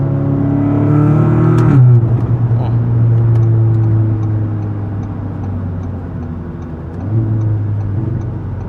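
A 2017 Audi S3 engine hums and rises in pitch under a bridge underpass near the Mall of Africa, with steady tonal drone, a brief rev swell and occasional ticks, heard from inside the car.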